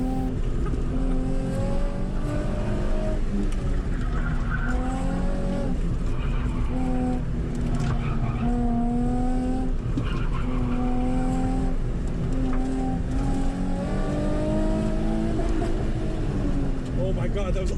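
A Nissan 350Z engine revs hard and loud on an autocross course, pitch climbing and dropping through repeated hard accelerations up to the rev limiter, with a voice speaking over it.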